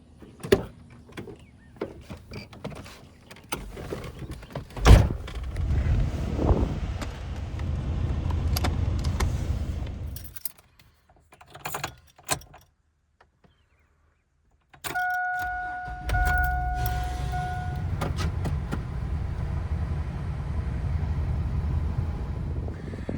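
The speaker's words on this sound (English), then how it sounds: "we are gassed up and ready to go. So let's hit the road" A loaded car about to leave on a road trip to the coast: a few door and power-window sounds and rustling first, then a steady engine hum rolling on after a brief quiet gap.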